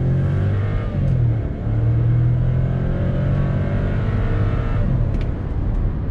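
A Volkswagen Nivus pulls away under acceleration, its engine rising to a loud, steady, sustained roar with a brief dip partway through as the revs climb.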